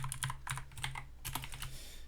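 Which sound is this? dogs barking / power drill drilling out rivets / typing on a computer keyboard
typing on a computer keyboard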